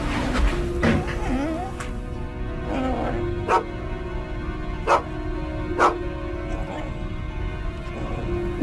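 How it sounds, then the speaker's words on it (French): Sheba the dog barks in sharp single woofs spaced a second or so apart, with whimpering yips in between, fairly close, as people talk nearby. "What's she barking at?"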